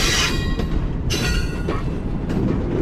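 A Green Line Express premium train runs at speed while overtaking the Baba Farid Express, heard as a loud, close, continuous rumble with rhythmic wheel clacks and bursts of rushing noise.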